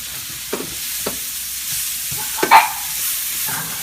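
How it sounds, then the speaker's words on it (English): Mushrooms sauté in a pan for chicken marsala, giving a soft, close sizzle broken by a few sharp stirring scrapes and one louder clatter, with no talking. "we're going to leave just enough in there to saute the mushrooms"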